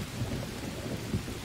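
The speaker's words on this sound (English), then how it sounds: "I knew it'd be raining when we woke up." Rain and thunder in the survival video game Green Hell, a low continuous rumble with steady rainfall texture and a couple of slightly louder thumps, fairly quiet and without talk.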